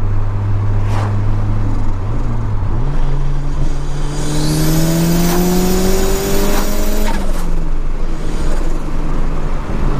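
A 1987 Ford Sierra Cosworth RS500 drives and turns around, its engine note rising and falling steadily through gear changes, loud and close throughout with no talking.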